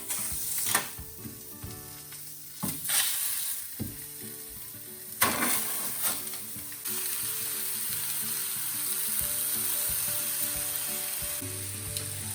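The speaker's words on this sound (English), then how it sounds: "Okay, now we're ready to fry the chicken with our oil." Chicken frying in oil in a Saladmaster pan, a steady hiss and sizzle with occasional sharp clatters and scrapes of utensils, the sizzle growing more constant and even toward the end.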